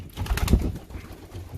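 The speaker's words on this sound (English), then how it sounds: "we do have some young birds." Young pigeons from a first hatch of the season, already banded, give soft low cooing in a breeding loft, with brief rustles and murmurs around them at close range.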